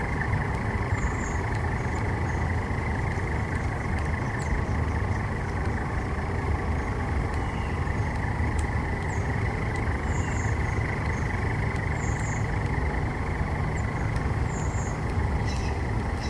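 A truck rumbling somewhere in the background of an outdoor tai chi session at a festival, a steady low drone that holds for the whole stretch with no talk over it.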